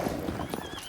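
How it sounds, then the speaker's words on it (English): Horse hooves in the video game The Witcher 3 as a rider mounts: a brief, close clip-clop of hoofbeats with a soft snort, over faint game background. "right when she mounts the horse"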